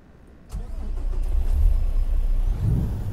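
A simulated Cummins engine in a Peterbilt 281/351 truck in American Truck Simulator cranks and catches about half a second in, then settles into a loud, steady, low diesel rumble at idle.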